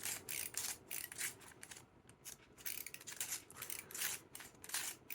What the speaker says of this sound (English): instead of having to turn and let go and turn, everything turns so it ratchets